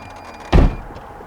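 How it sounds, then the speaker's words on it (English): A Porsche car door pulled shut from inside, a single close, heavy thunk with a short low rumble, otherwise quiet. "and close the door like that"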